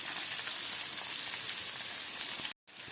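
Ground spices sizzle in a hot pan while the base for a pomfret fish curry is cooked, giving a close, steady crackle that briefly cuts out near the end; no one speaks.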